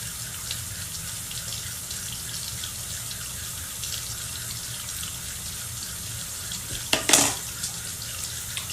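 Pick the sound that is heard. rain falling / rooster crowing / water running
water running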